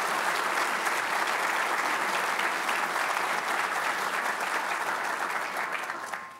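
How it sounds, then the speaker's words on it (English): A large audience gives Margaret Wong a big round of applause, dense sustained clapping at a steady level that fades slightly at the very end. "let's give Margaret Wong a big round of applause"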